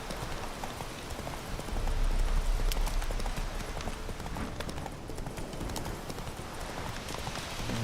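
The horse Roach galloping in The Witcher 3, a rapid run of hoofbeats with heavier low thuds partway through, continuous and close.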